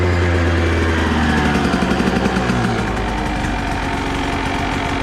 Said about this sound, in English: It's electric start, which I've never had on a dirt bike, let alone a two-stroke dirt bike.